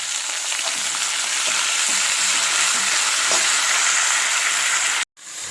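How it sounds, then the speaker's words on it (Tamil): Thoothuvalai leaves sautéing in hot oil with garlic, onion and pepper, a loud continuous sizzle with scraping stir strokes, briefly cutting out near the end before resuming. "அதோடு இந்த தூதுவளையை சேர்த்து எண்ணெயில் நல்லா வதக்கணும்."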